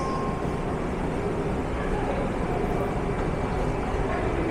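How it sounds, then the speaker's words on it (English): A Vancouver SkyTrain metro train rumbles steadily nearby, a constant low mechanical roar with a faint high whine, as it rolls into Vancouver City Centre station. "And here we are with our train coming on in."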